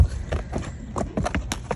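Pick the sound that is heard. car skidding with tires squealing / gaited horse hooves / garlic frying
gaited horse hooves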